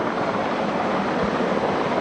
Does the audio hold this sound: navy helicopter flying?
yes